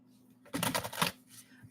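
Tarot cards being shuffled in a short riffling burst of papery flutters, close and moderately loud, over a low steady hum with no talking.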